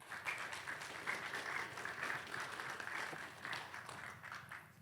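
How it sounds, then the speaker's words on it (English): A conference audience in San Francisco claps for a speaker, a faint, continuous round of applause with a gently fluctuating level that eases off slightly at the close. "So please give Amir a big round of applause."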